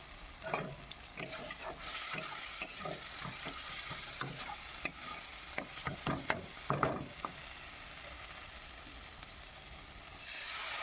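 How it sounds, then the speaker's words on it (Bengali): Spice paste for a king prawn curry being stir-fried in a pan, a steady sizzle and hiss with repeated scraping strokes of a spatula throughout, close and moderately loud, no talk. "তো দেখো মশলাটা কষিয়ে নিচ্ছি ভালো করে মশলাটা ভেজে"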